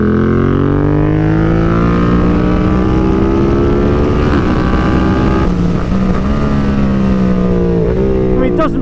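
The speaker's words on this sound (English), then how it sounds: "we've got the full Arrow system, which gives this sound" A BMW F 900 R Cup Racer motorcycle with a full Arrow exhaust system, its loud engine revving and rising in pitch close by, with a voice talking over it.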